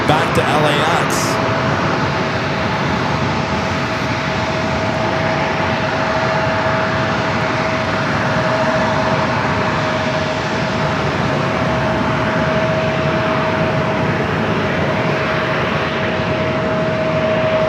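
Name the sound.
Boeing 737-800 jet at San Diego airport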